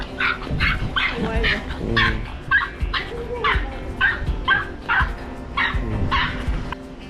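A Maltese dog barks repeatedly in sharp, high yips at people and other dogs during a walk, close and loud, with whimpers between the bursts.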